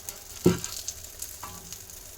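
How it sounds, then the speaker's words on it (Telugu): Food roasting in ghee in a pan sizzles steadily, with a sharp crackling burst early on and a softer pop later, close and moderately loud with no talking. "నెయ్యి ఇలా పోసుకొని చక్కగా మనం కాల్చుకుంటే,"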